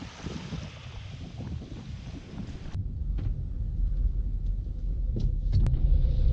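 A car driving along a road on the island of Mykonos, with a continuous low engine and road rumble mixed with wind buffeting, growing slightly louder toward the end.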